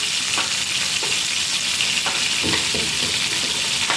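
Leeks fry in a pan with a steady, loud broadband sizzle throughout, and a few soft clicks of stirring come through near the middle and later on; nobody speaks.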